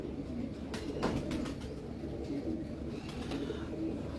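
A prized champion pigeon coos softly several times against a steady background hum, with no talk over it.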